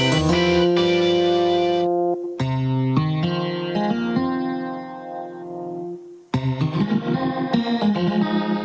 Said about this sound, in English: Let's see what I can do with a simple guitar sound.